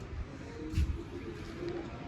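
A pigeon at a rooftop loft coos in soft, low, nearby bursts over faint background noise, no words spoken.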